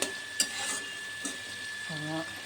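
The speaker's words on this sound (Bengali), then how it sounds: "এবার ভাজা হচ্ছে মশলা।" Gentle sizzling of spices with garlic, ginger, chili, tomato and onion frying in a pan, with a few clinks and stirring scrapes; a brief voice murmurs near the end.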